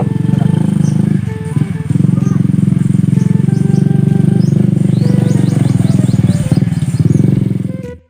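A motorcycle engine drones steadily and loud, close by, with a brief dip partway through before it cuts off at the end, while voices chatter underneath.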